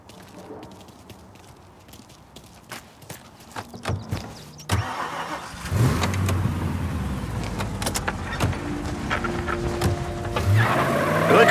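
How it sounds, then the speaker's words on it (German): A car in Mafia Definitive Edition starts up and pulls away, its mid-pitched engine revving louder and steadier as it accelerates, with no talking over it. "Drück aufs Gas, Tom!"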